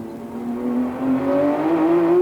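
A race car accelerating hard out of a corner at Bathurst during the 1991 Bathurst 1000 Top 10 Shootout, its engine note climbing steadily in a single loud pull, heard alone.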